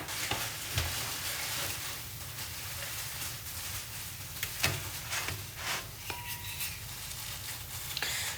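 Bread frying in butter in a pan, a steady close sizzle with scattered soft pops and a few light scrapes as the slices are shifted about, no voices.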